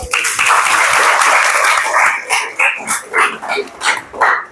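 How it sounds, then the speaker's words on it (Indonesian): A group of students claps in a classroom, dense applause at first that breaks into several separate bursts of clapping before fading, with some cheering voices mixed in. "tepuk tangan untuk kalian"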